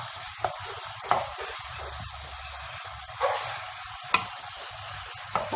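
Chicken pieces fry in a pan with oil and ground ginger, releasing their juices: a soft continuous sizzle broken by several sharp scraping knocks of a utensil stirring against the pan, with no voices.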